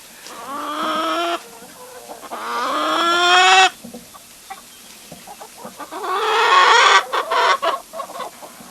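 Chickens from a backyard laying flock cluck and squawk loudly up close, in drawn-out calls and a burst of short clucks, with no talk over them.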